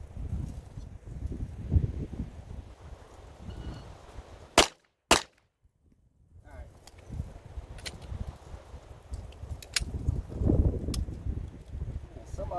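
Several sharp pistol shots from a Ruger Max 9 Pro are fired at an outdoor range. A pair of loud cracks stands out among quieter scattered pops, with brief silence between them and faint background murmur around them.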